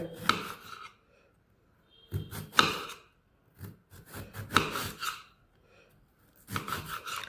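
A knife slices bitter gourd into thin pieces in a kitchen, producing close, rasping cutting strokes in several separate bursts with quiet pauses between them, and no talking.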